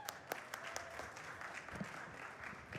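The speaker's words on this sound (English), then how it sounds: "Let's give him a quick round of applause." An audience at a security conference talk giving a short round of applause, steady clapping heard from a moderate distance and fairly quiet throughout.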